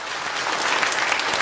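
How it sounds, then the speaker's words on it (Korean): A church congregation at a Sunday worship service applauds to welcome newcomers, a brief, full burst of many hands clapping that lasts about a second and a half. "2층에 잠깐 일어서시면 우리 박수로 환영하도록 하겠습니다."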